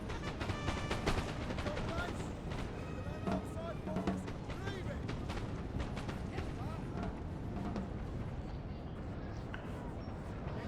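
Musket gunfire in a Napoleon: Total War online battle, dense crackling volleys and scattered shots throughout under steady battle ambience, with someone talking over it.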